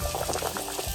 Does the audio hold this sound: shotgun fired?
no